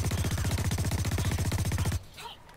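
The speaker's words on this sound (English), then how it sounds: "Someone's shooting." Sustained automatic gunfire in the shooter game Blacklight Retribution, a fast, even stream of loud shots for about two seconds that stops abruptly, leaving faint background sound.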